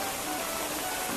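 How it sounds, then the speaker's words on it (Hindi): Heavy rain pours down outdoors near a market in a dense, steady hiss with no break, loud and close. "गाइस आप लोग देख ही सकते हो बहुत तेज बारिश"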